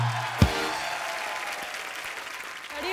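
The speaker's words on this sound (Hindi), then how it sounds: "प्लीज आप सबकी जोरदार तालियों के बीच the very talented Anushka Sharma." Studio audience on a comedy talk show applauding to welcome actress Anushka Sharma onto the stage: a sharp burst at the start swells into sustained, dense clapping with some crowd noise that holds steady throughout.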